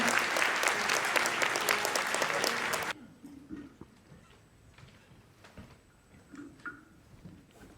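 Dense applause from a wedding crowd fills the first few seconds, then cuts off, leaving a quiet hall with scattered faint knocks and shuffles.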